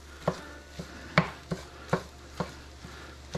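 Knife chopping sausage on a cutting board while cooking Christmas breakfast with eggs and biscuits, about seven sharp, fairly evenly spaced knocks at close range over a low steady hum.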